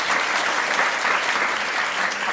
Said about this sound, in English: So we're applauding both of you for your commitment to your relationship.